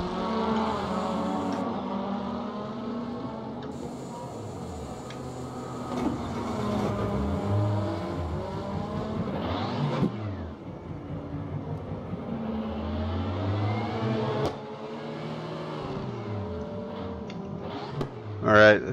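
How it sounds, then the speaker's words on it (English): A Lada touring race car in the RaceRoom sim, WTCC 2017 class, has its engine started and left idling, a steady droning rumble with shifting revs throughout, while a person talks over it. "Let's start the engine."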